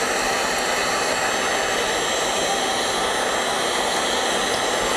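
Steady loud whoosh of a heat tool blowing hot air to melt wax for encaustic painting, a continuous broadband roar running unbroken throughout with no voices.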